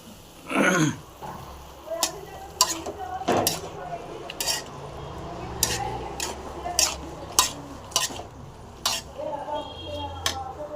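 Carrot halwa is stirred in a pan after milk has been poured in, with sharp metallic clinks and scrapes of a spoon at irregular intervals over a low sizzle, plus a brief throat sound near the start.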